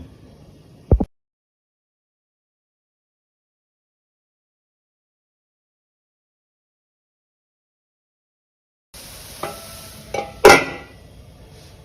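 Kanda paat zunka, spring onion greens, is stirred in a covered pan: a lone metallic clank, a long silence, then close scraping, sizzle and clattering lid and utensil knocks.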